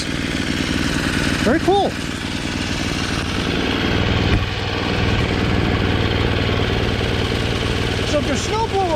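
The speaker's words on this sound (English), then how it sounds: "if your snowblower runs without stalling, you know, just by itself" A Craftsman 522 push snowblower engine runs steadily and loudly with a constant droning hum, while a voice briefly speaks over it.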